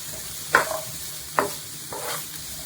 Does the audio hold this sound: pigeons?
no